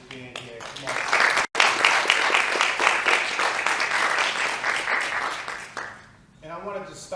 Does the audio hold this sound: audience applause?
yes